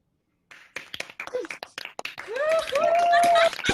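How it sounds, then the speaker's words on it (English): A graduation audience on a video call claps in scattered bursts after a silent start. Cheers and voices rise over the clapping, and a long whistle-like tone sounds near the end. "warmly welcome you to unmute yourselves and cheer and clap for each other"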